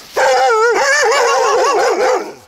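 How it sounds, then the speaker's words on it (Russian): A dog loudly barks and yowls close by in one sustained, wavering outburst that fades at the end, during a rural metal detecting outing where dogs confront the digger. "Ну чё гавкаешь?"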